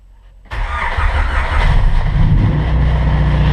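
Honda Civic EG6 with a freshly installed B18C6 engine cranks briefly, then catches and settles into a loud, steady idle close by, with no voices over it.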